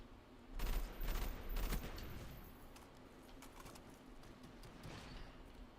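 Gunfire from a 3-round burst weapon in an old-school Call of Duty match: a few quick bursts of shots come early, then give way to a steady wash of game noise and distant effects.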